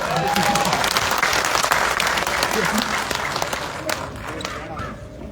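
Audience at a meeting on state pensioners' pay breaking into dense, sustained applause that gradually thins and fades toward the end, with scattered voices in the room.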